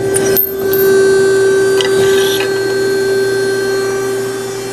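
A JMT 120 ton ironworker, model IW110 BTD, cuts material. Its steady hydraulic motor hum runs throughout, with a couple of brief metallic clunks early on, close and loud.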